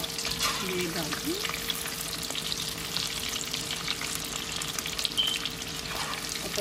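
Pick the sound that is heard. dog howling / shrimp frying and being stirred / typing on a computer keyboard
shrimp frying and being stirred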